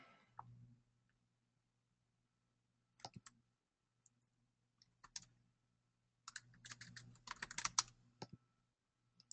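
Quiet, sporadic bursts of computer keyboard typing during a webinar, with clicks separated by silent gaps, ending in a longer flurry of keystrokes.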